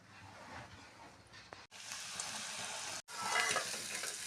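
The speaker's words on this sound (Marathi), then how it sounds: "तेल आता गरम झालेलं आहे आणि आता यामध्ये मी ही शेंगदाण्याची भरड यामध्ये घालत आहे" Coarsely ground peanuts hit hot oil in a pan and sizzle loudly with a steady crackling hiss, cut by two brief gaps, close by with no talk.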